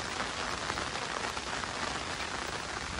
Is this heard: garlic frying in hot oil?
no